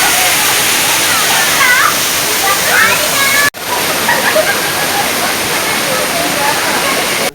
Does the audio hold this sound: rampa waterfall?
yes